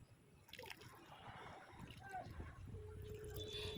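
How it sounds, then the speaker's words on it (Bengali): Water trickling and splashing as an offering is poured out during a household puja on the first day of Shravan, a soft, close pour that swells gradually, with a faint tone near the end. "একটু জল নিবেদন করলাম"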